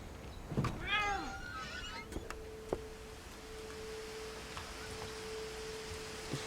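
In What Remains of Edith Finch, a cat lets out one clear, fairly close meow with strong harmonics, followed by a few soft clicks and a thin steady tone over a quiet game ambience.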